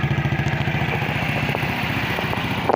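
A motorcycle engine idles close by with a steady, rhythmic putter after a repair that stopped exhaust backfiring, loud and continuous, no voices.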